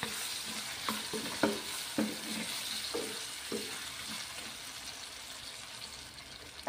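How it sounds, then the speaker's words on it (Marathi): Potatoes and onions are stirred and sautéed in a pan over a constant soft sizzle. A spatula scrapes and taps the pan in irregular bursts that fade toward the end, with no talking. "तर आता व्यवस्थित आपल्याला हे आलू कांद्यासोबत परतून घ्यायचे आहे"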